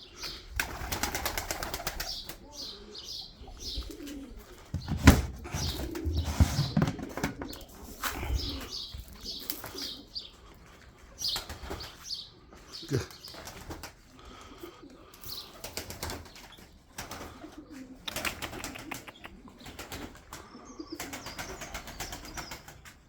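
Pigeons coo while wings flap and clatter repeatedly nearby, with scattered chirps, at an early morning gathering of many birds.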